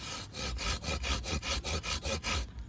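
A hand saw cuts through a durian tree branch in a steady back-and-forth rhythm, about ten close, loud rasping strokes, then stops.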